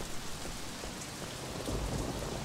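Steady rain in the video game Sleeping Dogs, a dense broadband wash with low rumbling swells like distant thunder, continuous and fairly full throughout with no voices.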